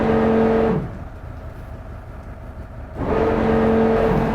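Engine of a 2021 Beneteau Swift Trawler 41 running under way, a steady droning hum that drops to a softer, lower rumble midway before swelling back up to full strength.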